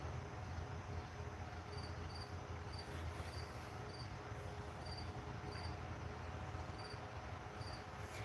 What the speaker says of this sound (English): that cricket is just purposely sitting out here